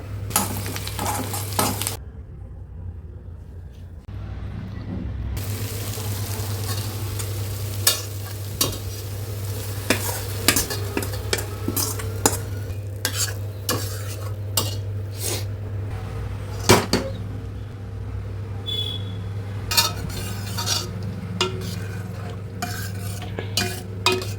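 Ghee tempering for cooked greens sizzles steadily in a pan, with repeated sharp clinks and scrapes of a stirring utensil against the cookware and no talking.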